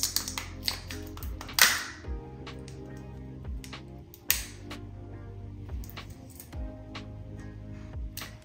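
A small Sol de Janeiro body butter sample container being opened, close crisp clicks, taps and plastic rattles in irregular bursts against a quiet room.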